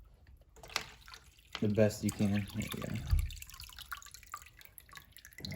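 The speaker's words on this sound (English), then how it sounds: "it's important to pour some water into it just to get it primed" Water poured into an aquarium filter to prime it, a near trickle and splashing drip running under a person's speech through most of the moment.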